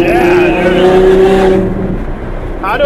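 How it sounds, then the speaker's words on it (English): Ferrari F12 with a V12 engine revving, a loud close-up rising tone that holds briefly and then fades as voices talk over it. "This is my favorite sounding Ferrari. Because it's V12, you know, sound way better than V10"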